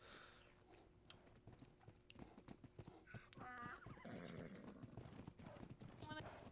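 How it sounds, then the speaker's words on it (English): Horse in the ARK video game, hoof clip-clop and a whinny amid shuffling and clicks, under several voices talking, growing louder in the second half. "I'm gonna get my horse."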